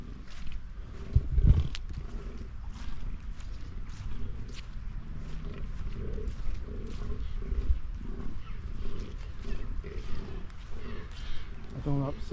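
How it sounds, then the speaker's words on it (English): Deer call with low, rough bellows and grunts on the open parkland of the Holkham Hall estate, heard at a distance through outdoor background noise while someone talks quietly and footsteps pass. "Ah, I don't know if you can hear the deer."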